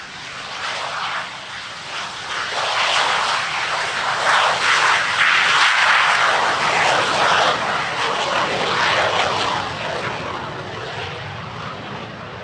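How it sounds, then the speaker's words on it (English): A North American Sabre jet flies past at an Italian Air Force centenary airshow, a broad roaring engine rush that swells to a peak midway and slowly fades, steady and loud with no voices. "Europe's only airworthy Sabre, owned and flown by Frederick Ackery."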